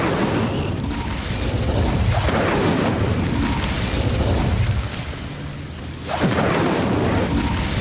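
The Incendio fire spell cast in Hogwarts Legacy, several loud whooshing bursts of flame with booming blasts, one sharp burst near the end, no voices.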